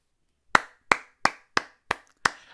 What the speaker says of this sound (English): I just wanna applaud, you know?